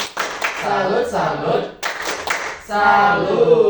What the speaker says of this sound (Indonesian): Tepuk salut. Salut.